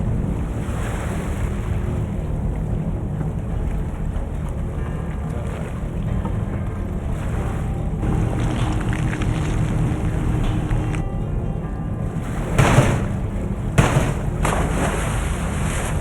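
A steady crab fishing boat engine in the game Deadliest Catch drones beneath rushing wind and sea noise, continuous and fairly loud, with a couple of brief bumps near the end.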